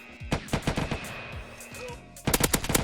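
Bursts of rapid gunfire from GTA roleplay, sharp repeated shots in quick volleys, with a louder rattling burst at the end.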